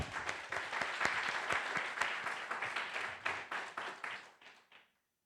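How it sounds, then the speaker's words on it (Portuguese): A church congregation at a worship service applauds, many hands clapping in a full, steady roar that breaks into rhythmic clusters and fades out to silence near the end. "Queridos, tendo vontade de aplaudir, aplauda."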